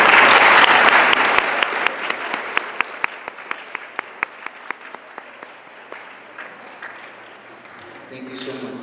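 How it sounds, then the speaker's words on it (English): Audience applause at a middle school Black History Month celebration, starting as a loud dense burst that thins into a slow, evenly spaced run of single claps before fading, with a voice speaking at the end. "I'd like to give a round of applause to the people."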